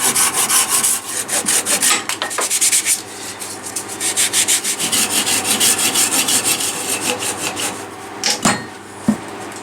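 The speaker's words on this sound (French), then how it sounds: "Donc maintenant je vais scier ici." Rough back-and-forth rasping of a hand saw cutting through a turned ash wood birdhouse, steady rhythmic strokes close up, slowing near the end with a few sharp knocks, no talking.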